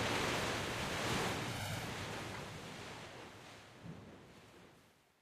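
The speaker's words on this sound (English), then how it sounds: "He wept as the wind and waves thrashed him around" Storm wind and crashing ocean waves roar as a broad, steady rush that swells early and slowly eases, with one brief surge near the end and no voices.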